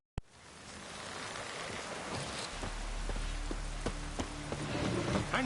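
Rain in The Witcher 3: Wild Hunt falls as a steady soft hiss on surfaces with scattered drops, joined by muffled hoof clip-clops and a low rumble that grows toward the end.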